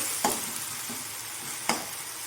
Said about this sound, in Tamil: இப்போது தக்காளியை நல்லா வதங்கட்டும்